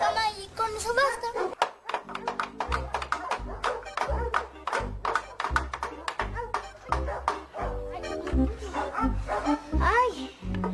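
Dogs bark in quick, repeated yaps over a steady rhythmic backing, loud and close throughout, with voices talking across the barking.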